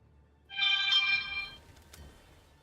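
A mobile phone rings loudly and close by with one bright, tonal ringtone burst lasting about a second, then fades, with a short click afterward and no talking.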